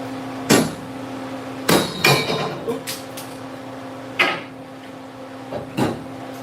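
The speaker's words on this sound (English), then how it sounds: "Let's get a bigger hammer." Metal hammer blows on a Crown Vic race car being stripped for weight, several sharp clanging strikes at uneven intervals, some in quick bursts, with a steady hum beneath.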